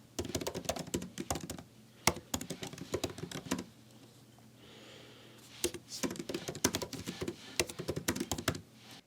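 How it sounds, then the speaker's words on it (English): Keys on a MacBook Pro 14 laptop are typed in quick, close, crisp bursts of clicks and taps, with a short pause midway before the rapid typing resumes. "of course, I'm going to be giving you a keyboard ASMR."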